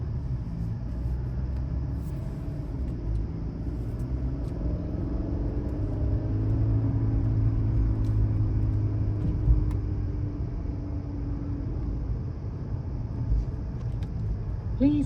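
A Mercedes C-Class cruising on a European road, heard from inside as a steady low engine and tyre rumble with a faint rising tone in the middle, continuous and even throughout with no talking.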